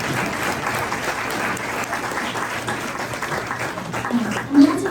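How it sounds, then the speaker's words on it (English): At a community forum about South Livermore's vineyards, an audience applauds board members. The clapping is even and sustained for five seconds, with a low hum beneath and a brief louder bump near the end. "let's give them an applause for their service"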